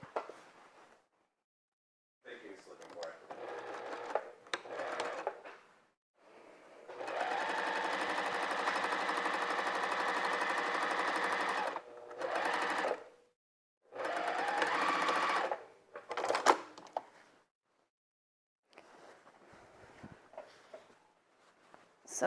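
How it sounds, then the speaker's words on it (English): A sewing machine stitches a seam on an orange peel quilt block in several rapid, whirring bursts of a few seconds each, separated by short quiet pauses, close and clear with no talking. "just sew down this edge"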